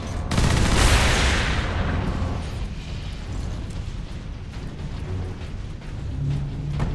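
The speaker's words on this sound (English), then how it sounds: "Sentry guns ahead." Sentry guns fire in the Warhammer 40,000: Space Marine video game, a heavy, continuous burst of automatic gunfire that opens with a booming blast and then keeps rattling at high volume.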